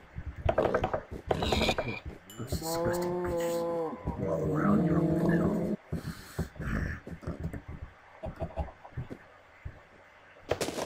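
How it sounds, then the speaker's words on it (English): A cow in a blocky video game gives a couple of drawn-out moos amid clicky game effects, with a voice talking between them. "What you doing up there, stinky cow?"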